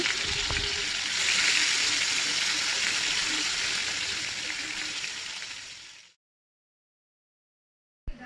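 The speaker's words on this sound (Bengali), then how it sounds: "তেলটা গরম হলে এর মধ্যে আগে থেকে ম্যারিনেট করে রাখা মাছগুলো ভাজার জন্য দিয়ে নিচ্ছি" Marinated rohu fish pieces fry in hot oil in a kadai, giving a loud, steady hiss and crackle that runs for about six seconds before cutting to silence.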